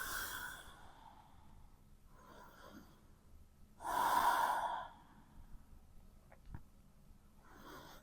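A person holding a yoga pose breathes softly and slowly, with one louder, fuller exhale standing out among quiet breaths in a calm, near setting.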